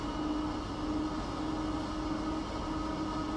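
A train in Train Sim World rolls along with a steady rumbling drone and a constant hum, even and continuous throughout with no voices.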